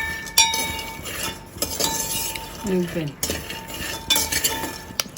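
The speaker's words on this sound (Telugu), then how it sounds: "కానీ స్టార్టింగ్ నుంచి వేగే వరకు కలుపుకుంటానే ఉండాలి స్లోగా తిప్పుతానే ఉండాలి సిమ్లోనే ఉండాలి" Peanuts roasting in a pan on a low flame rattle and clink as a spoon stirs them steadily, a busy metallic scraping with a brief voice in the background.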